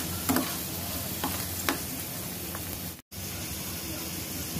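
Chana dal being stirred with salt and spices in a hot pan: a continuous soft sizzle with a few sharp spoon taps against the pan and a brief dropout near the end.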